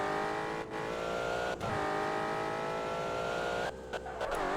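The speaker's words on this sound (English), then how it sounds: "To damage the car we're gonna need a wall and some speed" A race car in the video game Rev to Vertex speeds toward a wall, its engine a loud, steady, high-pitched drone with a few brief dips in pitch and no talking.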